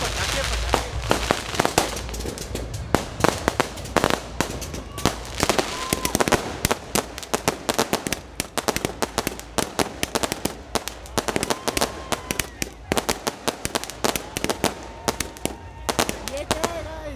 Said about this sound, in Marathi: फटाके फुटले, फटाके फटाके